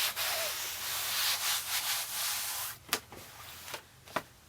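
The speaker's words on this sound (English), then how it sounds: "let's rub the whole thing down, but really, Rub along these edges to make sure these edges are secure" Hands rub fabric down onto a Cricut Maker cutting mat in a close, breathy swishing. Several sharper brushing strokes punctuate the second half.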